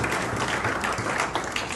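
Applause from a crowd at a gathering about central authority and police working conditions, a dense steady patter of many hands clapping throughout at moderate loudness with no clear voices.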